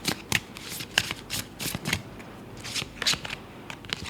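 A tarot card deck is shuffled close up, giving a series of crisp riffling and flicking bursts in an uneven rhythm, with no talk over it.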